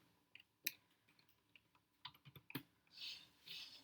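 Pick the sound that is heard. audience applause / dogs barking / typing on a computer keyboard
typing on a computer keyboard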